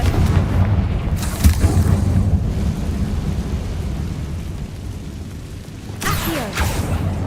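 A booming blast from the Confringo fire spell in the Hogwarts Legacy video game, a loud rumbling burst followed by a sustained roar, then a second sharp impact near the end.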